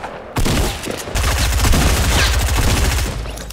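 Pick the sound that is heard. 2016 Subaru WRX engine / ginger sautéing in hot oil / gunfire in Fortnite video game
gunfire in Fortnite video game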